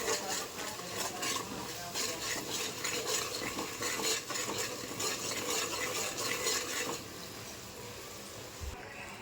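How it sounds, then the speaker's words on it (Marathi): Onion and tomato paste with red chili and turmeric frying in hot oil, with a steady sizzle and repeated stirring scrapes and clinks of a spoon against the pan. The sound stays close and continuous, with no voices. "जोपर्यंत तेल सोडत नाही तोपर्यंत ह्याला फ्राय करायचं"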